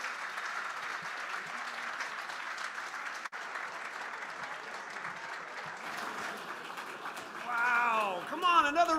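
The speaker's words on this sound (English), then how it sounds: "another round of applause" An awards-show audience applauds in a steady, dense wash of clapping that swells near the end, with a voice speaking faintly underneath.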